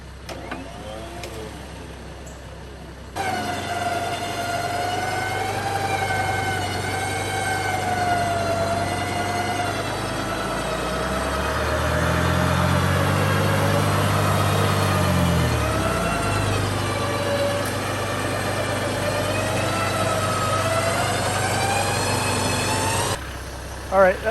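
An electric winch whines steadily while pulling an off-road vehicle, buried to the front axle, out of mud on a hard trail, a loud, sustained motor drone with a strained dip in pitch midway before it cuts off.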